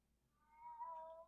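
A pet cat meows indoors, a single drawn-out, rising call that swells in the middle and trails off, fairly faint and alone with no talking.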